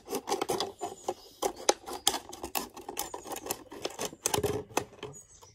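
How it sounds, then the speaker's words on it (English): A plastic bottle has its bottom cut off, giving a close, quiet stretch of scratchy rasping and crunching cuts in uneven short bursts. "I don't want to cut too much of the bottle off because I want to make sure there's plenty of soil in here."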